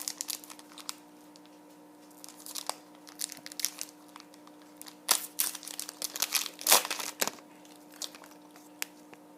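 A foil wrapper on a pack of football trading cards is torn open and crinkled, with irregular close crackles and sharper rips building in the middle, then fading to a few light rustles.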